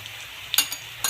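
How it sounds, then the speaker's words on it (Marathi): Spices such as turmeric, kitchen king masala, red chili powder and garam masala stirred into a frying mixture in a pan: a soft continuous sizzle broken by a few quick scraping strokes of the spoon, close and fairly loud. "छान असं मिक्स करून घेऊया।"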